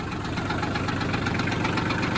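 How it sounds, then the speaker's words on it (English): A tractor fitted with forks and homemade bucket teeth running close by, its engine producing a loud, steady throbbing knock with a rapid even pulse throughout. "If the tractor's too loud, well, sorry about that."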